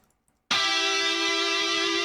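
After a brief silence, a bright, sustained electric guitar solo note in a NWOBHM-style mix blares in loudly and holds steady, thick with effects.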